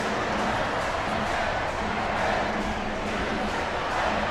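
A dense, sustained roar of a large crowd cheering in an arena, loud and continuous throughout without pause.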